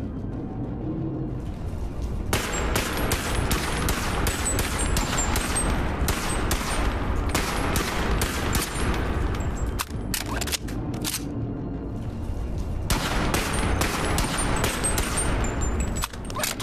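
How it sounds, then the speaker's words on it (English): Turrets fire in the BONELAB VR game, a dense run of rapid gunfire that fills most of the stretch. It breaks off briefly near the middle, then resumes, loud and close with no talk over it. "Oh wow, turrets."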